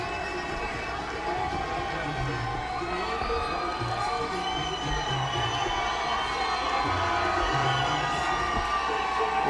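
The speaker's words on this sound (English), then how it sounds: "Hear the crowd, the Westside Boxing, the marching skulls, very loud for their fighter." A loud boxing crowd cheers and shouts steadily for its fighter at the end of a six-round bout, a dense roar of many voices with whoops rising and falling throughout.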